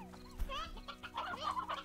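Stony hens in Slime Rancher cluck and chatter in short, close bursts, with several overlapping chicken-like calls in quick succession.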